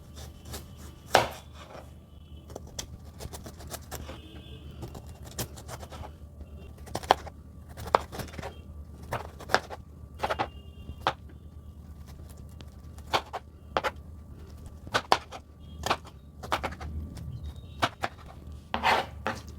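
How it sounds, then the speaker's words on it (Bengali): A knife slicing a cucumber into long thin strips on a cutting board, sharp irregular chops spaced through the clip, close and clear against a quiet background. "এবার শশাটাকে লম্বা করে সরু সরু করে আমি কেটে নেবো"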